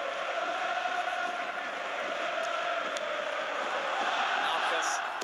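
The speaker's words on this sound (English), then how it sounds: "We've got the fans going now." Stadium crowd noise from a football video game, Real Madrid against Barcelona in 2019, a steady loud roar of fans that holds constant throughout with no individual voices standing out.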